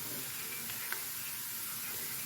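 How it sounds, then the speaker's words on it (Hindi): Onions browning in a pan with turmeric added, a steady soft sizzle and hiss of frying throughout, close and even, with no talk. "देखिए हमारा प्याज ब्राउन हो रहा है"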